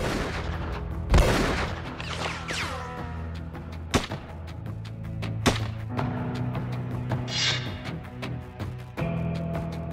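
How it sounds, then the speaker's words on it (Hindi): Gunfire and bomb blasts during an open street attack amid traffic in Prayagraj: several sharp, loud bangs and heavy booms ring out at irregular intervals over steady low traffic rumble, with no talking. "खुलेआम बम फेंके जा रहे हैं, गोलियां चल रही हैं"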